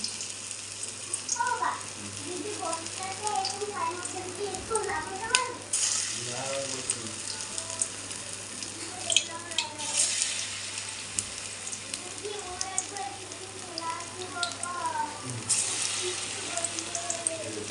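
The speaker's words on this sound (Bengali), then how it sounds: "গাইজ এখন পাট শাকের বড়াগুলোকে ছেড়ে দিচ্ছি" Jute leaf fritters sizzle in hot oil in a wok, a steady bright crackling hiss with occasional clinks, while a person talks over it throughout.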